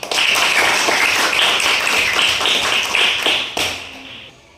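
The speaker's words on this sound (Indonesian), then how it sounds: "tepuk tangan semua" Classroom audience clapping together, a dense steady burst of applause lasting about three and a half seconds before tapering off into near silence.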